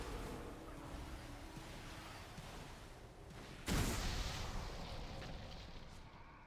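A video game explosion strikes several targets at once: a sudden loud burst of broad rumbling noise cuts in midway over a dull background wash, then slowly fades out without any talk.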